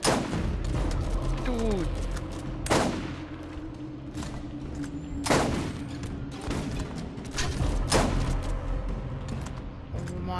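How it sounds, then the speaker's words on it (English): Rapid bursts of missile fire from an enemy turret in the co-op shooter Borderlands, a few loud blasts spaced several seconds apart over constant battle noise, with voices talking throughout. "his turret shoots freaking like 3 missiles at once"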